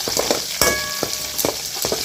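Dried red chilies sizzle and fry in hot oil in a pan during lunch-box rice cooking, a steady crackle broken by several sharp stirring scrapes and clinks, close and fairly loud, with no talking.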